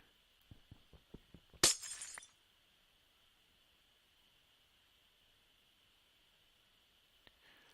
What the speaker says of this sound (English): It plays the sound of glass breaking.